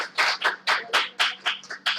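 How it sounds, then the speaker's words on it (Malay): One person claps close to the microphone, about eight crisp claps in an even, steady rhythm over two seconds, with nothing else heard. "So tepuk tangan untuk diri sendiri."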